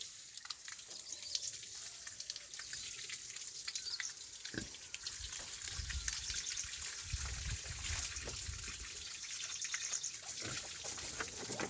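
Water pours and splashes over a pig being bathed in hot weather, an uneven trickling and spattering with occasional bumps, fairly quiet and without talk.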